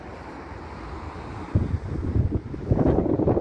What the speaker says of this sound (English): It's been pretty windy in Florida.